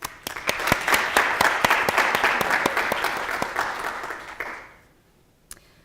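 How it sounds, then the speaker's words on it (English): Symposium audience applauding for Ashley, a dense, lively burst of clapping that holds for about four and a half seconds and then fades out, leaving one stray clap. "give a big round of applause for Ashley"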